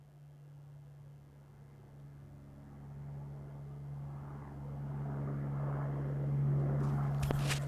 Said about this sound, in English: And we have a helicopter departing.